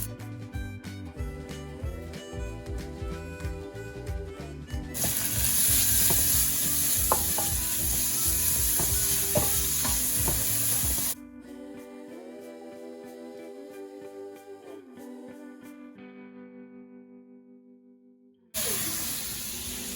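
Bacon frying in a pan for a French meal: a sustained sizzling hiss under music, growing louder midway, then cutting out as the music continues alone before a final return of noise.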